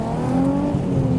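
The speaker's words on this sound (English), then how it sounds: "I just did a first gear pull up to 30" A car pulls hard in first gear while leaving a car show, its engine close and loud with a steady rising drone over the brief moment, no voices.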